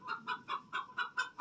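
A chicken clucks in a steady series of about seven close, loud bursts, one every fifth of a second or so, at an off-grid chicken shed under construction.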